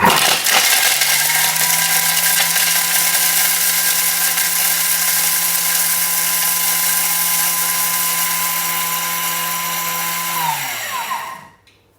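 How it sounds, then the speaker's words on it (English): A Thermomix grates Parmesan cheese at speed 10, giving a loud, high-pitched steady whir for about ten seconds before the motor winds down and stops. "put the lid on and we're going to 10 seconds, speed 10, to grate that cheese."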